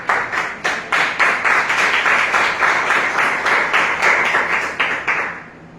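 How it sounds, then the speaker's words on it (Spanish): Church congregation applauding God during a sermon, a steady run of claps with rhythmic pulses, fairly close and sustained, without talk. "un aplauso a Dios, hermano"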